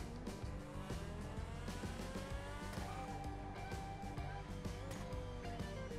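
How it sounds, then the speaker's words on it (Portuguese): A fast car in GTA accelerating, the engine note climbing steadily and loudly for several seconds with a dense, unbroken roar and rising pitch, heard up close with no pauses. "eu tô muito afim de acelerar esse carro"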